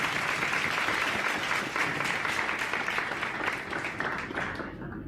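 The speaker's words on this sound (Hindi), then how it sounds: "जोरदार ताली हेमंत के लिए।" A studio audience on a TV quiz show breaks into loud sustained applause for a departing contestant, thick continuous clapping that carries for about five seconds before tapering off.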